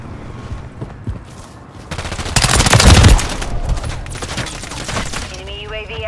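Rapid bursts of Honey Badger rifle fire in Modern Warfare 3 multiplayer, loud and sustained automatic shots with a heavy peak midway, alongside other battle noise and faint game chatter.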